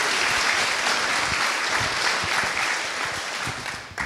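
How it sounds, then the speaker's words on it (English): Audience applause at an outdoor celebration of a veterans' Congressional Gold Medal presentation: dense, sustained clapping from a large crowd, loud and even throughout, tapering slightly near the end, with no speech over it. "Let's give them a round of applause, please."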